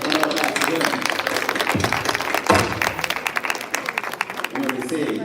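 A crowd applauding with steady, dense clapping that continues throughout, loud and close, with a brief dip partway before the clapping swells again.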